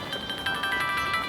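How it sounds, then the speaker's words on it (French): A telephone ringtone plays as a bright, repeating electronic melody with a fast, regular pulse, steady and fairly loud, with no talking over it. "excuse-moi le téléphone"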